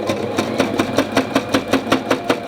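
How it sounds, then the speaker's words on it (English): A sewing machine stitching through thick fluffy fabric, close and loud, its needle thumping in a quick even rhythm of about four strokes a second over a steady motor whir. "What happens if I just sew it like that"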